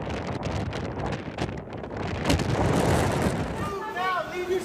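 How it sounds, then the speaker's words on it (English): Wind howling and gusting at over 100 miles per hour across a parched landscape during a wildfire, a loud continuous roar buffeting the microphone, swelling in strength midway and easing slightly toward the end. "The wind was howling, gusting at times at over 100 miles per hour"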